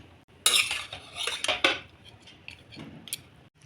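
Roasted peanuts get mixed into coriander rice in a pan: a burst of clattering metal scrapes and rattles, then quieter intermittent taps and scrapes, close up with no talking.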